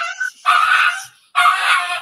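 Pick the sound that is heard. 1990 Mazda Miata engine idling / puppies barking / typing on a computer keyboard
puppies barking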